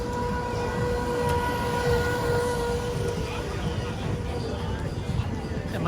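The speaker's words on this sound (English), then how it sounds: "Now we're in front of Douglas Fudge, and here's another tram car" A tram car rolling along the Wildwood boardwalk at night, a continuous low rumble with a steady tonal hum over crowd noise, close by throughout, while someone talks.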